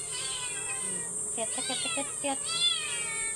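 Cats meowing while being given cat food as a treat, with several short meows in a row over a steady background hiss, and people talking nearby.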